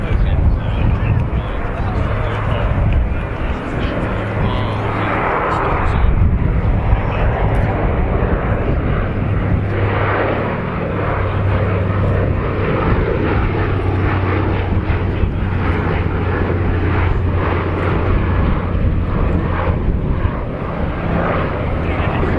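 A propeller aircraft with retractable wingtip floats flies a pass from left to right at the RAF Cosford Airshow in 2022, its loud engine drone swelling and holding throughout while a commentator talks over it.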